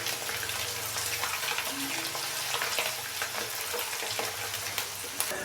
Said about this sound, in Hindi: अदरक और लहसुन के पेस्ट को हल्का सा फ्राई करेंगे, तकरीबन 30 सेकंड के लिए